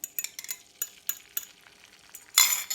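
An egg goes into olive oil in a skillet, with sharp utensil taps and stirring scrapes near the pan, then a sudden loud sizzle as it hits the hot oil.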